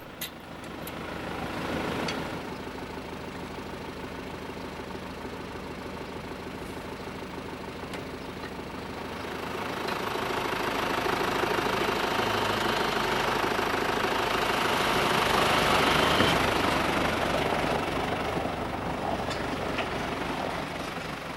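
The diesel engine of a reel-laying machine working in a field, a steady rumbling drone with a knocking undertone that swells louder in the second half, no voices.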